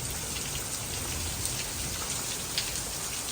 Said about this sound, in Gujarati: વરસાદ જોરદાર ચાલુ છે હો ભાઈ